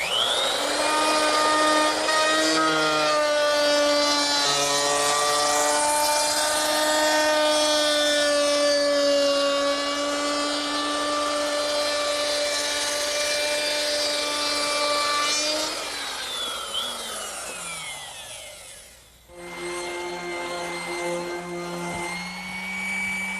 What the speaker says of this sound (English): I'm just going to use a chamfering bit in my router.